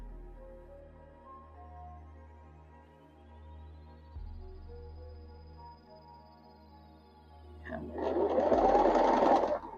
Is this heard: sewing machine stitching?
yes